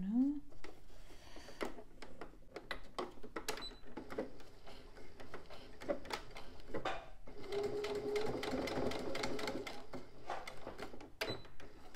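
A sewing machine stitches a seam on a zippered pouch in rapid bursts of mechanical clatter, stopping and restarting, while a person talks over it.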